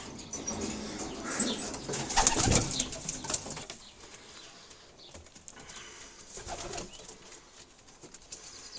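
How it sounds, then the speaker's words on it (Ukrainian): Sport pigeons take off with a loud flurry of flapping wings, followed by softer wingbeats and faint cooing in the background. "Всі льотні голуби."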